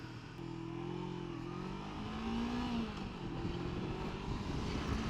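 Honda CB500F motorcycle speeding up on an open road, its engine note climbing through the gears under steady wind rush, heard from the rider's position. Nobody speaks.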